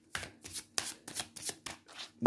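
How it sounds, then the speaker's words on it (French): Stiff tarot cards riffled and shuffled by hand, several quick papery bursts in an uneven rhythm, close and fairly quiet, with no talking. "Alors non, ça c'est 2, je remélange."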